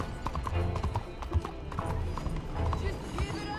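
Horse hooves clip-clopping at a brisk pace in Red Dead Redemption 2, with occasional whinnies and voices talking over the galloping rhythm.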